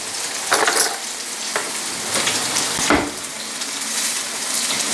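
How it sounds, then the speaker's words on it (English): Garlic sizzles steadily in a hot pan for a shrimp and vegetable spaghetti, a loud continuous frying hiss with a few brief stirring scrapes, close up and without talk. "Now we'll add the garlic in here."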